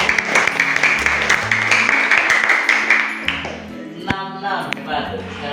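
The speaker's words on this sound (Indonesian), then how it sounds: "Tepuk tangan untuk dua-duanya." Students clapping in a classroom for two classmates, with a dense patter of applause that fades out, followed by scattered taps and a ping.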